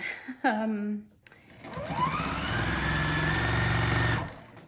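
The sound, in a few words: sewing machine stitching quilt binding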